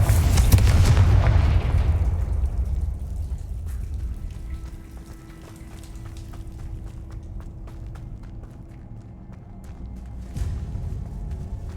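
A Confringo blasting spell from Hogwarts Legacy goes off as one loud, deep boom at the start and rumbles away over a couple of seconds. A quieter, sparse game ambience of light footsteps and small taps follows, with another soft thump near the end.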